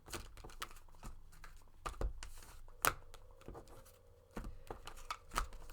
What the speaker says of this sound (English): I'm going to go ahead and do one more shuffle, because the cards are still kind of sticking together